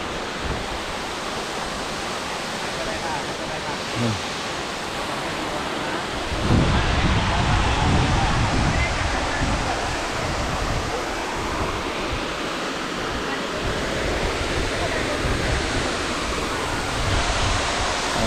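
Steady, powerful roar of the Tad Yeuang waterfall in Laos, broadband and continuous, swelling slightly louder partway through, with no clear voices over it.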